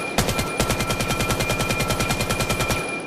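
The AK-303 rifle firing full-auto in the VR shooter Vail: a rapid, even burst of around twenty loud, close shots lasting about three seconds, with no pause and no voices.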